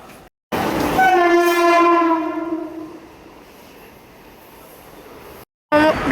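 A passing train sounds a long, loud horn blast with strong harmonic tones for about two seconds, then continues with steady rolling rumble, in Bombay.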